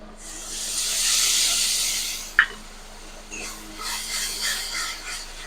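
Onion, ginger and garlic paste hitting hot oil and spices for chicken kosha, a strong bright hiss that swells for about two seconds, then a sharp clink followed by a softer ongoing sizzle.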